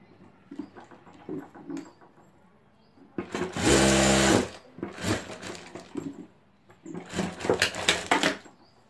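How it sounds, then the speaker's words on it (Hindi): A sewing machine stitches the lining of a sling bag in three loud bursts, the middle one longest, with quiet handling noises between them. "और यहाँ जीप के साथ ही अस्तर लगा देंगे। और यहाँ से हम सिलाई कर देंगे।"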